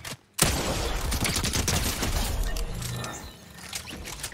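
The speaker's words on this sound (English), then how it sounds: "So that is a shotgun SMG time to kill combo right there." A shotgun and combat SMG firing in Fortnite Chapter 4: a short burst, a brief silent gap during a quick weapon swap, then a long loud stretch of rapid gunfire that thins out near the end.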